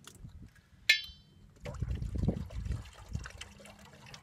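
After a bright clink, water pours and splashes into a pan outdoors on coastal rocks, a soft trickling that continues quietly at close range.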